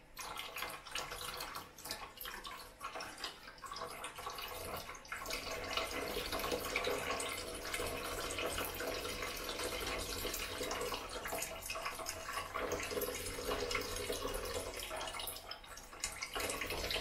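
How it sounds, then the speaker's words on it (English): Apple pulp for cider strained in a kitchen sink, a steady wash of running and splashing water with dripping, constant and close throughout with no talk. "I'm now going to move this into the sink and start to strain the apple pulp."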